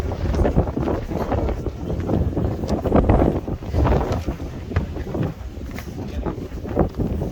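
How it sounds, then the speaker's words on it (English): Strong wind on Alcatraz Island buffets the microphone in loud, continuous low rumbling gusts that rise and fall throughout, with no talking. "I did not in fact think it would be this windy"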